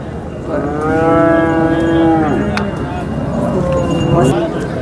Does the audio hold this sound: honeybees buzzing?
no